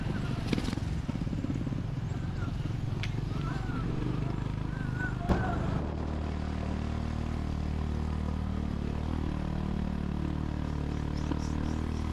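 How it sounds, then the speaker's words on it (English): A scooter motorbike carries a big rider on the way to the Temple of Leah, its small engine droning steadily with road and wind noise. A sharp knock comes partway through, then the tone changes. "The scooter's doing okay for a big bloke like me on it."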